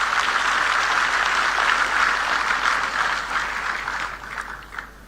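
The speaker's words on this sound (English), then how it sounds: "Give a big applause for our SRM team." Loud, dense applause from an audience at the inauguration of a quantum reference facility, sustained, then gradually thinning and fading toward the end.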